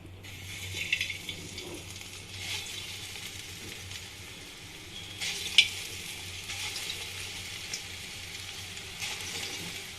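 Lentil bora dumplings deep-frying in oil, a steady soft sizzle with broadband crackle throughout and a few brief clinks and taps, no voices.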